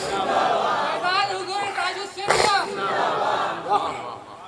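A religious gathering's crowd shouts back in unison in answer to the takbir call, a loud, rough swell of many voices with a sharp burst partway through and chatter trailing after.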